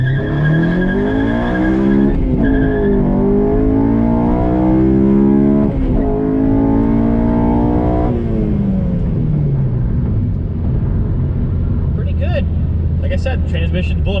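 A 2007 Honda Civic Si launches hard at a drag strip, its engine revving steadily upward through a long, loud pull with a gear change partway through, recorded close from inside the car.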